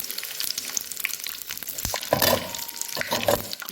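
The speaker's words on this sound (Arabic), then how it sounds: "تعالوا بقى نقلي الحمام" Pigeon frying in a pan crackles and sizzles steadily at close range, broken by a few small clinks and stirring noises, with no talk.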